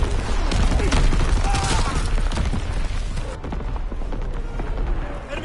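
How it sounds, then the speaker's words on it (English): Artillery fire in a PS4 war video game, a dense continuous barrage of booms and blasts with crackling gunfire, loud throughout. "Incoming enemy artillery!"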